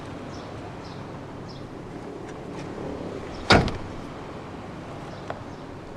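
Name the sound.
BMW 118i rear seat back folding down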